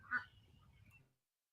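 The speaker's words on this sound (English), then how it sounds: "Hear them ducks in the background, Mary?" Ducks quack in a short burst near the start, faint and distant, over a low background rumble that fades out after about a second.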